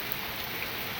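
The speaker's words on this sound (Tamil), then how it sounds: "மழை வந்து இப்படி போடுன்னு போடுது" Heavy rain pours down steadily in Delhi, a dense, loud, unbroken patter of drops striking surfaces nearby with no voices heard.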